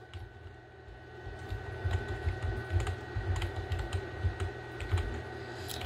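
Typing on a computer keyboard: quiet, irregular clicks and taps in bursts over a low steady hum, close by, with no talking.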